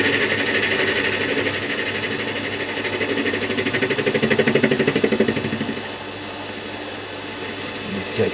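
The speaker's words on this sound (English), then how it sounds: "a big chunk in there where the grinder's been at it" Angle grinder cutting metal in a shed, a loud steady whirring drone with a gritty edge that swells mid-clip before dropping to a lighter spin-down hum.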